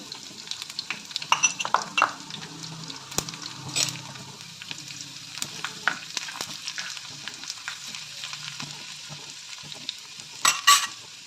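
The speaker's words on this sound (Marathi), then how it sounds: "नंतर यामध्ये लसूण घालूया" Garlic fries in a pan with light, crackly sizzling and intermittent scraping stirs, moderately close, with a few sharper spatters toward the end.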